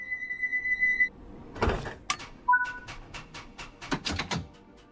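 Train doors on the Bakerloo line in Train Sim World 5 shutting: a held warning tone gives way to sliding, clunking door movement and a few sharp thuds, fairly close and loud.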